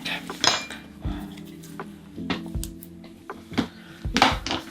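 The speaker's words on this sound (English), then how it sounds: "we can stir it up with this fork" A fork stirring ingredients in a bowl, with repeated scraping and clinking of metal against the dish in irregular bursts, close and moderately loud, no talk.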